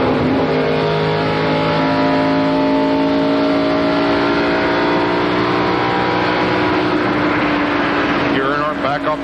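Dale Earnhardt's NASCAR stock car at the Indianapolis Brickyard 400 in 1997, its V8 engine droning loud and steady from onboard as it runs through the turns, with a voice speaking over the roar.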